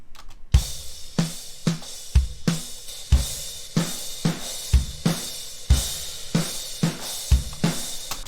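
A drum kit played in a steady groove through room mics, kick and snare hits ringing out with roomy, spacious ambience and cymbals washing over the top.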